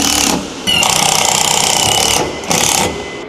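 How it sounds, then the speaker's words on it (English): Steady back-and-forth hacksaw strokes rasp loudly and close by during electrical installation work, running in two bursts with a brief pause between them. "Hacksaw."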